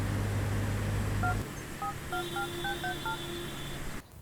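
Telephone keypad tones in a Tamil devotional film: a low hum gives way to a series of short, evenly spaced dialing beeps, followed by a longer steady tone, heard alone without talk.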